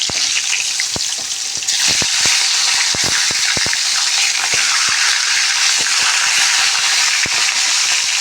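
Hilsa fish heads fry in hot oil with a loud, continuous sizzle and frequent sharp crackles and spits, heard close up with no talking.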